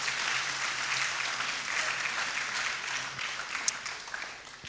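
A church congregation applauds in a steady, even wash of clapping that carries on for several seconds and slowly thins toward the end, heard from within the hall.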